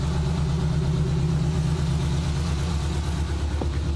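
Suzuki Samurai engine fitted with Microsquirt EFI idling steadily and close, a loud, even low-pitched rumble with a smooth rhythm and a brief small blip near the end.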